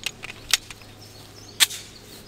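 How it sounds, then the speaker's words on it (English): A Taurus TS9 pistol fires at steel plates, two sharp distant cracks about a second apart with faint pings in between. "But let's just do a little bit of shooting."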